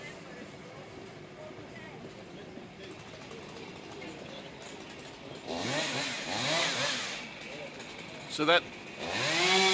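A chainsaw cuts into a street tree being felled on Kenwood Road in Sheffield, its buzzing engine rising and revving in bursts toward the end, with people talking over it.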